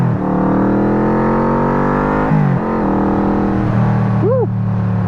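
Tesla car accelerating past, a steady loud smooth whir with many layered tones that shifts in pitch midway, heard close over constant road and wind noise.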